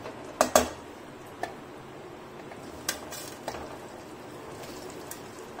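Halved okra (bhindi) dropped into a hot pan on full heat and stirred, a few sharp metallic clinks and scrapes of the spoon against the pan over a low background hiss, sparse and close.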